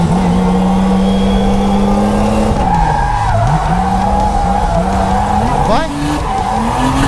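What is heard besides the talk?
car drifting with tire squeal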